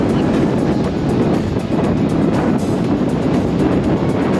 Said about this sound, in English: What would possibly make you think it's a windy day today?